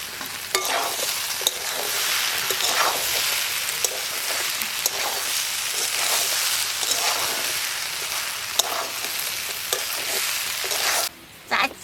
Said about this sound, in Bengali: মশলা ভাজা হয়ে গেছে, আমি ডালের বড়ি দিয়ে দেবো।